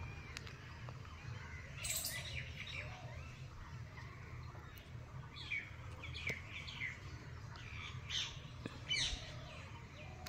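Budgerigars in a colony cage chirp and warble in scattered bursts over steady low background noise, the calls fairly close and moderately loud.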